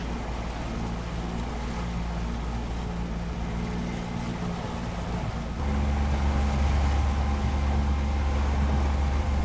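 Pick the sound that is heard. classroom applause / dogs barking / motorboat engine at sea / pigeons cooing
motorboat engine at sea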